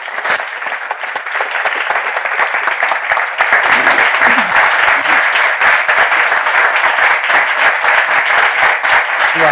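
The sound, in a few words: audience applause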